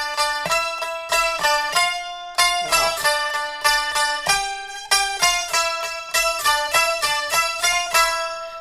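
An electric five-string, button-keyed Japanese instrument played out of tune, giving bright twangy plucked notes in quick rhythmic runs, with short pauses between phrases, close and clear with no talk.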